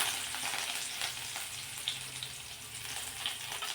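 Coriander leaves sizzle in hot oil with garlic for a tempering, a steady, close crackling hiss that runs without pause.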